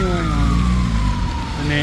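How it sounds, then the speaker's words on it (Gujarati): An ambulance siren passes on a rainy street in Europe, its loud wailing tone sliding down in pitch as it goes by over steady engine and traffic rumble. "એમ્બ્યુલન્સ આવે છે"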